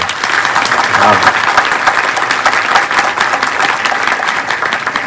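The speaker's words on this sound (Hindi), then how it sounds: "प्रभु को ताली बजाकर धन्यवाद दें" A church congregation claps together in thanks. Steady rhythmic hand claps fill the room for several seconds, close and even, with scattered voices mixed in.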